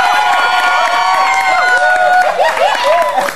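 A studio audience cheers and applauds, loud and close, with whooping, shouting voices above a wash of clapping that lasts the whole moment.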